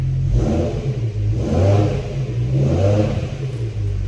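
A BMW S85 engine in an M5 or M6 with a lightweight flywheel revs up repeatedly, rising and falling in three or four smooth surges, close and loud, with no talking.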